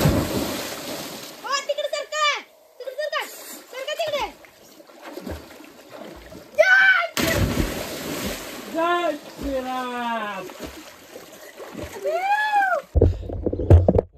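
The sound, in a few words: splashing water while swimming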